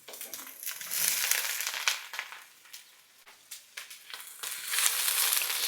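Mushrooms and onion fry in a hot pan with steady crackling sizzle, broken by crunchy stirring and scraping bursts that rise and fall throughout, close and fairly loud.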